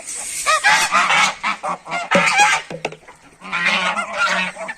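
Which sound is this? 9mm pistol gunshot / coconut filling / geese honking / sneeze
geese honking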